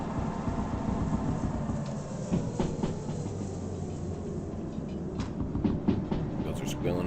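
Train rolling steadily in the Derail Valley railway game, with a constant low rumble and faint high wheel squeal coming and going over the continuous noise.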